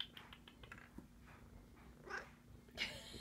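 A house cat purrs and snuffles very close to the microphone, a quiet low rumble with soft breathy bursts and no talking.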